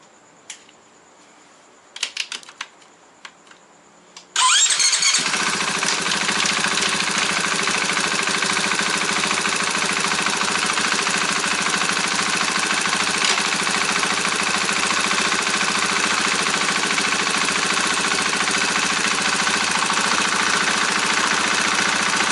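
A 2022 KTM 500 EXC-F motorcycle engine starts after a few clicks and cranking noises, then catches and runs loudly and steadily at a fast idle, close by, for the rest of the clip.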